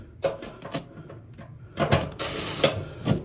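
Screws are driven into a blower motor housing, giving close, uneven mechanical clicks and ratcheting rattles in short bursts, busier in the second half.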